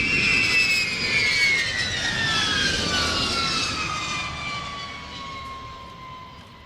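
B-52 bomber passing at the Waddington airshow in 2008, its jet engines giving a loud roar with a whine that sweeps downward as the aircraft moves away and slowly fades.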